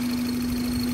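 Car engine with an aftermarket pod filter idling steadily, a loud, even drone with a strong constant low hum throughout.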